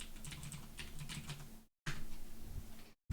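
Fast, light clatter of keys on a computer keyboard, typed in quick bursts at close range, with two brief pauses of silence between runs of keystrokes.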